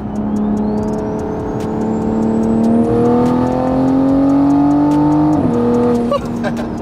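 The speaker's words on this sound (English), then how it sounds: "some of you guys do not like the turbo whistle sound from the T51 R mod" A Toyota A90 Supra's B58 engine with a big T51R turbo revs steadily upward with a high, rising turbo whistle over the roar, then briefly drops as the driver shifts and builds again.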